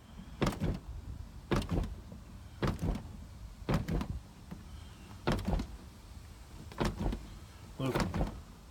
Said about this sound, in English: When I go open the door